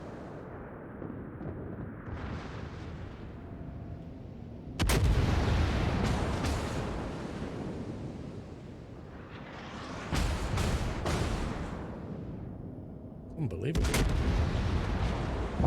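Naval guns boom repeatedly in a World of Warships battle, several heavy salvos landing in bursts over a steady engine-like rumble, with a voice briefly speaking.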